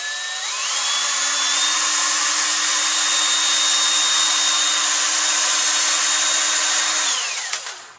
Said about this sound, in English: With something thin like this, you have to control the drill a little bit to keep it where you want it.